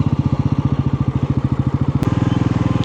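A motorcycle engine putters close by in a fast, even idle rhythm, loud and steady, with a brief click midway and the beat quickening slightly afterward as the bike is parked.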